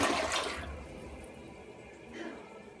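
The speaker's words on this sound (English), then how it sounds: "That Gerber will flush anything." Draining water gurgles and fades at the tail of a Gerber toilet's flush, with a steady trickling refill continuing quietly afterward and a brief swell near the end.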